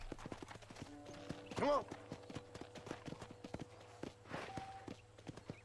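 Horse hooves clip-clopping at a steady walking pace while riding in Red Dead Redemption, a regular close rhythm running throughout beneath game music and a short spoken line.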